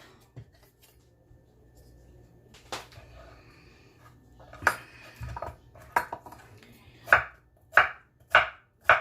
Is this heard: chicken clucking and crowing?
no